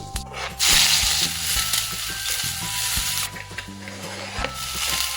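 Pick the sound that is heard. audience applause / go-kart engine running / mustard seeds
mustard seeds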